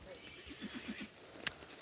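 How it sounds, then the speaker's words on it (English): Horse on a rural walk to an avocado harvest in the Philippines: a short snorting whinny followed by several soft, close hoof clops, then one sharp knock, with no talk over it. "But I seen a lot of crazy horses."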